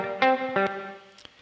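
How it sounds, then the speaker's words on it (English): Guitar notes pass through an Ableton Echo reverb in high mode, giving a metallic spring-reverb character: two plucked chords ring with a twangy, splashy tail that fades, then a few faint clicks at the end. "Kind of sounds like the sound of like a metal spring reverb"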